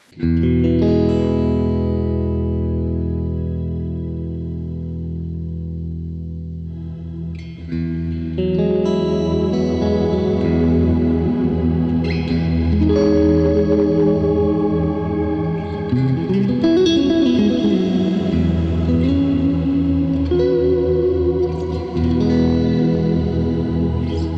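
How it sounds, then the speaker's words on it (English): An electric guitar runs through a shimmer reverb in AmpliTube 5, sustained chords blooming into a wide, bright, washing tail that swells and lingers, played loud and alone. "I've got like a shimmer verb, for instance. I could put that in there."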